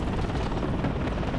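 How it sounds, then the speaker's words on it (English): Helicopter rotor and engine drone in the WARNO real-time strategy game, a steady dense roar with no break, fairly loud and close. "this helicopter is just not going to stand a chance against an AA helicopter"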